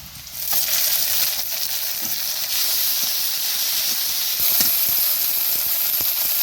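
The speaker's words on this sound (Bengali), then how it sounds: "পেঁয়াজটা লাল করে ভাজা হয়ে গেছে, আমি এবার এই যে বাটা মশলাটা আমি দিয়ে দেবো।" Ground spice paste hits red-fried onions in a pan for a lata fish curry with plantain, giving a close, sustained hissing sizzle with scattered sharp crackles and no talk.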